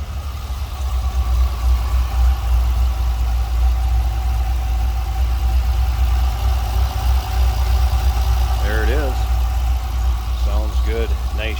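A 1996 Dodge Viper GTS engine runs at a steady idle nearby, a continuous deep rumble with no revving, and faint chirps rise briefly near the end.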